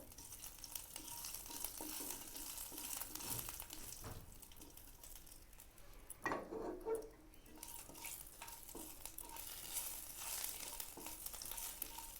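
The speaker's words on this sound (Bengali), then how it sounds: "তেলটা গরম হয়ে গেছে এর মধ্যে আমি তিনটে শুকনো লঙ্কা ভেজে নেব" Three dried chillies fry in hot oil in a pan, a steady close sizzle and crackle with a brief clatter of stirring midway.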